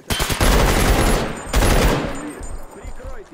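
Rapid automatic bursts from an M4 Butcher rifle in the video game Stalker Anomaly, two loud sustained volleys with a brief gap, then ringing decay and faint mechanical handling.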